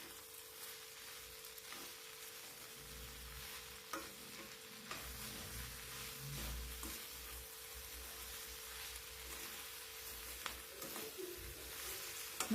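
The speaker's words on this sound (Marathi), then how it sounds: "मीठ टाकून झाल्याच्या नंतर परत एकदा भाजी आपल्याला छान मिक्स करून घ्यायची।" Okra stir-fry being stirred in a pan after salting, a steady close sizzle with scraping stirs throughout, no talking.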